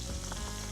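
Garlic and ginger sizzle in a hot pan as pork shoulder is braised, a brief, steady, close crackle of frying with no voices.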